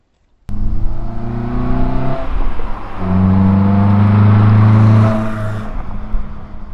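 A Toyota Celica AT160 engine starts and pulls away, its tone rising through a gear, dipping, then climbing again in a loud, close, steady drone with no talking.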